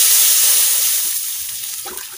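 Water is poured into a hot cooking pan with frying fish and taro, making a loud hissing sizzle that starts strong and gradually fades, with no talking.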